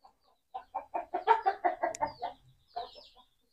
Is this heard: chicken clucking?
yes